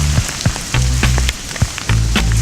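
Rain falls during a storm on an island: a loud, close wash of hiss with sharp drop taps and bursts of low rumbling gusts, with no voices.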